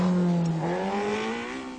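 A Talbot Sunbeam rally car on a rally stage in 1980 passes close by, its engine note rising in pitch over a couple of seconds, then fading as it pulls away.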